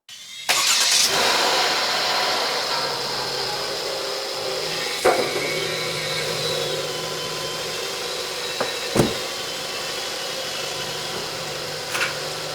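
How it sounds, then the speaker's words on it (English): A Mercedes Metris van with a 7G-Tronic transmission starts up with a sharp burst, then idles steadily as a broad, even engine hum. Occasional clicks and knocks sound over the idle. "Now we're gonna start the vehicle."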